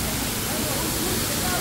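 An icy mountain waterfall roaring in close, a steady full wash of falling water filling the whole moment with no break.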